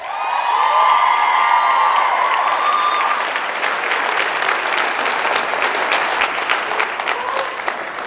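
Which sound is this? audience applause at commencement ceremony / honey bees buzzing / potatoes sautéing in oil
audience applause at commencement ceremony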